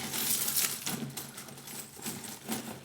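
Small metal charms handled and dropped for a divination reading, producing faint, quick clinking and rattling taps in a soft cluster, close by over a quiet background with no speech.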